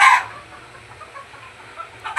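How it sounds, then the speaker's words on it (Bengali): Kadaknath rooster clucks in short, near bursts at the start and end while being weighed on a scale, with quiet shuffling in between. "এই যে সেই করকনাথ মুরগি"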